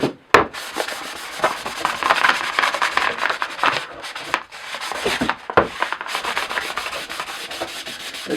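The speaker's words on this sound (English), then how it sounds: "This is just a 400 grit because it's already quite smooth." A vintage W&B Co. sledge hammer's wooden handle is hand sanded with 400 grit sandpaper. Close, rhythmic rubbing strokes repeat with brief pauses between passes, and no one talks.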